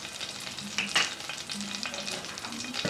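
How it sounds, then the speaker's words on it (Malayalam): Cumin seeds added to mustard seeds spluttering in hot ghee, giving a continuous close sizzle with a brief louder burst of crackle near the start and no talking. "കടുക് നന്നായിട്ട് പൊട്ടി വരുമ്പോൾ ഇതിലേക്ക് ചെറിയ ജീരകം കൂടെ ചേർത്ത് പൊട്ടിക്കണം."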